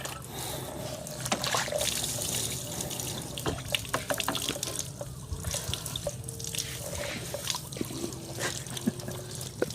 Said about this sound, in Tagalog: Ayan na nga, may shower na nga po kayo.